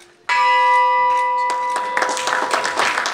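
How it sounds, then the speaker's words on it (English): A bell rings out at a listing ceremony for Hatton Plantations at the Colombo Stock Exchange in Sri Lanka: one loud, sustained metallic tone that lingers, with a busier crowd noise rising beneath it toward the end. "The listing of Hatton Plantations was marked with a bell-ringing ceremony at the Colombo Stock Exchange last morning."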